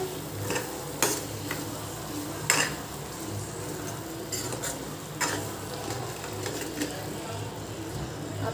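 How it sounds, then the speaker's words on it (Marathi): Paneer bhurji with fresh coriander is stirred in a pan, with occasional spatula knocks and scrapes over a steady low sizzle, close and unhurried, with no talk. "आता 2 ते 3 मिनिटं आपण चांगलं मिक्स करून घेऊया."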